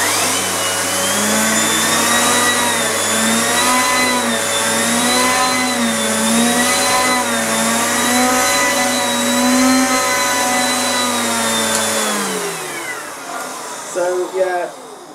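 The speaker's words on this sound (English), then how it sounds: "check out my other Miele Cat and Dog vacuum cleaner before I do a demo on this one" A Miele Complete C2 Cat & Dog canister vacuum cleaner runs with a loud, steady motor whine and airy rush, its pitch wavering slightly, then shuts off and winds down, leaving faint handling noises.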